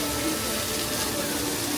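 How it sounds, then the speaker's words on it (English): Small decorative waterfalls at a theme park splash and rush in a steady, broadband wash of falling water, close and continuous with no clear breaks. "gotta notice little details like this, like nice little waterfalls"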